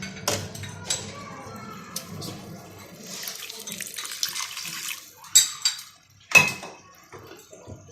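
Water is poured into a pan of potatoes and fenugreek leaves being cooked, with a soft splash and hiss, a few sharp clinks of a utensil against metal, and quiet kitchen noise between.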